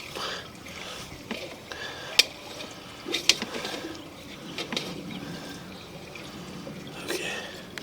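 Water running through a full-diameter drain pipe, a continuous wash of flowing water with drips and a few sharp knocks, close and moderately loud.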